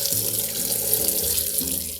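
Tap water pouring steadily into a basin for rinsing a wig with a silicone insert, a loud, close, continuous gush with rising pitch as the basin fills.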